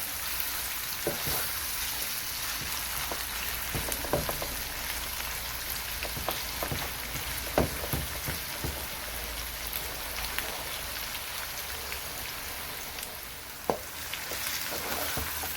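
Vegetables for a mixed sabzi fry in a pan, a steady close sizzle with scattered pops and occasional scrapes of stirring, no voices.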